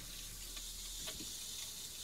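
An RV faucet fed by a battery-powered water pump runs steadily with a continuous hiss of flowing hot water into a sink, fairly close, with no voices.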